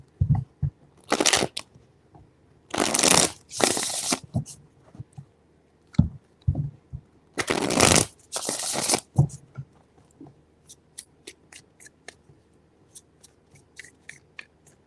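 Tarot cards being shuffled in three bursts of dry riffling and flapping, each lasting about a second, with soft taps and slides of the deck in between. Close and fairly loud, with no talk.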